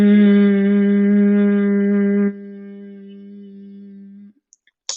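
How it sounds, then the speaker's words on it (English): A steady humming exhale of bumblebee breath in a yoga session, a sustained buzzing tone that holds for about two seconds, drops quieter, and fades out as the breath runs out. "the bumblebee breath is just a humming breath as you exhale"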